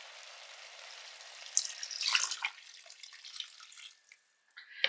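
Water poured over beef in a pot for carbonade flamande, a close splashing gush that swells, briefly thins to a trickle near the end, then splashes again.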